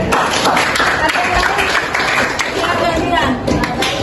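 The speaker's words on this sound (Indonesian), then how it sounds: "Oke, bagus, tepuk tangan." A grade eleven biology practical class claps hands together, a steady wash of many palms in a classroom, with a voice talking over it throughout.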